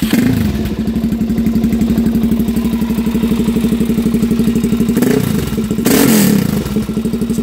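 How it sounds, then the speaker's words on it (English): A 2015 Suzuki DR-Z400SM with an aftermarket exhaust idling with a loud, throbbing exhaust pulse, then two sharp throttle blips rev it up before it settles back. "I'll go ahead and crank it up and let you hear the"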